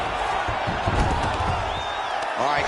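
A thick, steady arena crowd roar fills the background of an EA UFC bout as the fighters return to their feet, with commentators talking over the noise.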